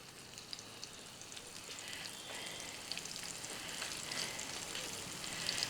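Thick-cut fish frying in hot oil, Kerala style, a soft continuous sizzle with fine crackling pops that grows slightly louder toward the end, close but fairly faint, with no voices.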